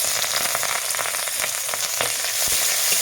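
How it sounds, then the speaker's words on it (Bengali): Whole garam masala, bay leaves, green chillies and chopped onion fry in hot oil with a steady, dense sizzle, broken by a few sharp spatula scrapes and clicks as the pan is stirred. "এটা আমি ভালোভাবে নাড়াচাড়া করে ভেজে নেব"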